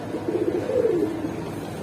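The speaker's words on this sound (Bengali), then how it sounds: "বুট ঠোঁটের কবুতর কিন্তু ভাই" Boot-beaked pigeons at a pigeon seller's: a soft series of low coos, a few quick pulses then a longer rolling coo, close and moderately loud over quiet background.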